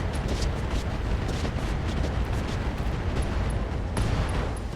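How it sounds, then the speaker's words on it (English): An SRM missile ammo explosion goes off in the RogueTech mech game, heard as a dense, continuous rumbling roar of blasts and debris with a few sharper bursts, loud and close. "that's a dead Battlemaster with that last missile sneaking in an SRM ammo explosion"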